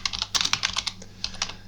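Fingers type on a computer keyboard to add text, giving a quick, close run of crisp key clicks in short bursts with a brief pause midway.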